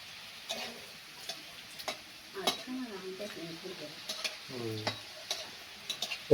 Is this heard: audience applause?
no